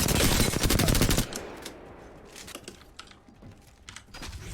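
An R-301 assault rifle fires a loud, dense automatic burst in Apex Legends, then cuts off into quieter game footsteps and movement noise with a few faint shots.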